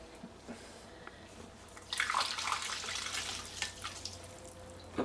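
Water poured into a glass, a steady splashing stream starting about two seconds in and running to the end, loud and close with no talk over it.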